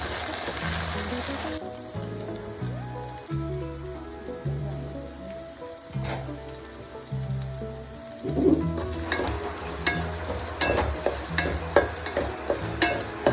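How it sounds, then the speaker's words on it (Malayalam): Garlic and ginger sautéing in oil for a tamarind-ginger pickle, a steady sizzle interrupted by bursts of spoon stirring and scraping against the pan, close and fairly quiet. "അതിലേക്ക് വെളുത്തുള്ളി ഇഞ്ചി ആഡ് ചെയ്യുക. ആ എണ്ണയിൽ കിടന്ന് തന്നെ അത് നല്ലോണം വഴറ്റണം."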